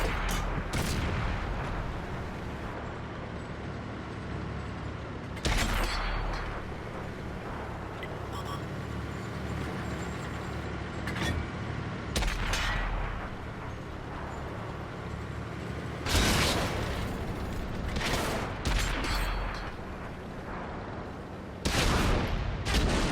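Tank cannon fire in World of Tanks, with the Tiger 1 and TOG 2 in a battle: several heavy booming shots spaced through the stretch over a steady rumbling engine bed, loud and close, no voices.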